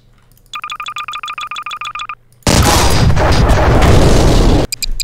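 A rapid series of electronic beeps is cut off by a loud, booming blast from a handheld Gustav cannon in a Garry's Mod video game, roaring for a couple of seconds before stopping abruptly.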